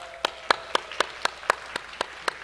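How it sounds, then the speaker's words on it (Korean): A church congregation gives a short welcoming clap during a Sunday worship service in Vancouver: about ten sharp, evenly spaced claps, crisp and close over a faint, quiet background. "잠깐 자리에 일어나시면 환영의 박수 드리겠습니다."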